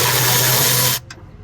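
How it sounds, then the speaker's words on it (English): A Milwaukee ratchet loosens a fastener on a car air box with a loud continuous buzzing whir that cuts off abruptly, followed by a brief faint click. "I'm gonna use my Milwaukee ratchet"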